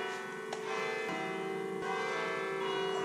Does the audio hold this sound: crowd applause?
no